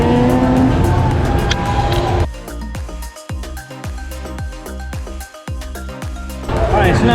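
Evening traffic on the Las Vegas Strip on a Saturday night, with steady engine and tire noise from passing cars at the start and end and quieter gaps in between.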